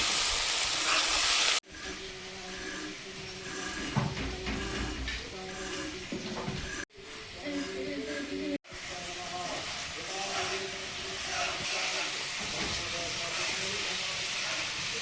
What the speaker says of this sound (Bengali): আলুগুলো একটু ভেজে নিয়ে